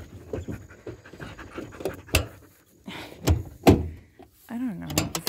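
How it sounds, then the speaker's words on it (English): Several dogs panting in short rhythmic bursts at a decaying farmhouse, mixed with footsteps, thumps and a brief whine or squeak, while a person speaks intermittently nearby. "I have the dogs."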